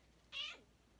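A cat gives a single short, clear meow close by in a quiet room, with no talking over it.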